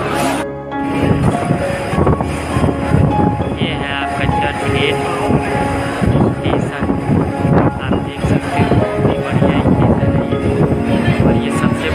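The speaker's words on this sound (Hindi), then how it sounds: "चर्च गेट स्टेशन है अंदर का" Loud, continuous rumbling roar of a train inside Churchgate railway station in Mumbai, steady throughout with a gusty, windy edge and possible voices blended into the din.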